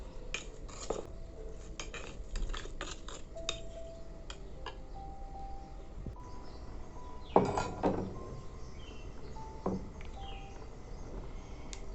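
Cayenne pepper and fenugreek seeds are mixed for chicken with red lentils, heard as light metal spoon clinks and taps against a pot over a low background rumble, with one louder scraping clatter.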